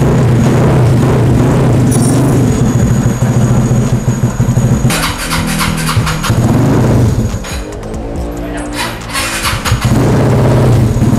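A Vespa Matic scooter nicknamed Trika, fitted with a Reveno product, fires up on a dyno and roars loudly, revving in surges with harsh rasping bursts and a brief dip between pulls.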